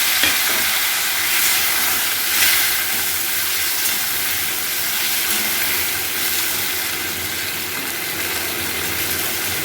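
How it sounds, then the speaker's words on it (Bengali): Tomatoes with bay leaf frying over lowered heat in a pan for a tomato chutney, giving a loud, continuous hissing sizzle throughout with occasional faint stirring scrapes and no talking. "টমেটোগুলো দিয়ে নিলাম, আঁচটা কমিয়ে দিয়ে ছেড়ে দিয়েছি।"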